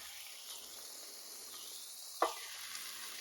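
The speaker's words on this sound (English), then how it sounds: "I'm also going to be adding a little bit of the avocado oil to my pan so I can get my steak cooking as well" Steak frying in avocado oil in a cast iron pan gives a quiet, steady hiss of sizzling, with one brief clatter partway through.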